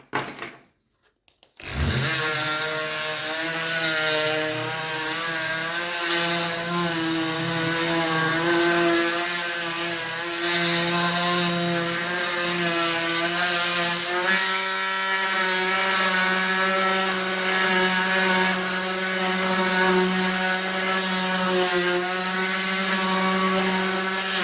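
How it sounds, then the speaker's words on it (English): A Parkside PMDSA 4 A1 cordless detail sander starts up after a brief pause and runs continuously, giving a loud, steady, buzzing motor whine with its plastic dust cover removed. "Let's take the plastics to have a better view at the sanding."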